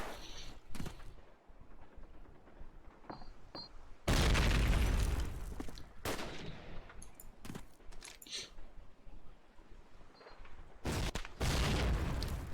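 Grenade blast in Call of Duty: United Offensive during a competitive match, with a loud broadband burst around four seconds followed by another blast near eleven seconds amid scattered gunfire pops.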